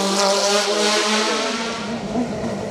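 A race car at the Abreschviller hill climb roars past loudly, engine revving high and then easing off as it draws away, with no voices.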